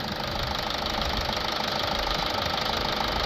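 A Toyota Yaris 1.4 D4D diesel engine idles steadily and close by, a constant knocking rumble with no break from start to end and no talk over it.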